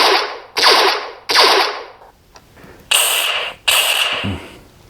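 Blaster sound effect played through a speaker mounted in an enclosure: five loud, harsh electronic zaps, three quick ones in a row, a short pause, then two more, each one fading out.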